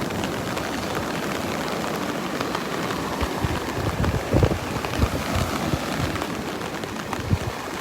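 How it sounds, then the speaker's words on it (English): Wind-driven rain sweeps across Vanderbilt Beach, a loud, constant patter and rush with heavier gusts and buffeting thumps against the microphone, no talking. "The wind and the rain."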